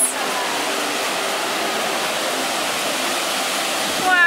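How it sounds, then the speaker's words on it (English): Ocean waves break along the rugged western coast of Nusa Penida, Indonesia, a loud, continuous roar of surf and rushing water with no pauses, heard close and alone. "the waves are just mesmerizing, and you just want to watch for that really big wave to go off"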